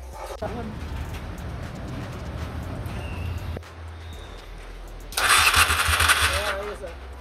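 A Honda Steed 400 motorcycle with a carburettor and a faulty starter relay gives a short, loud, rough burst of starter cranking near the end. Before it, low mechanical noise and a voice are heard.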